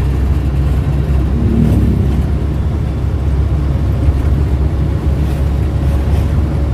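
A Suzuki Carry running while being driven, its engine a steady low drone with road and cabin rumble throughout, no talking.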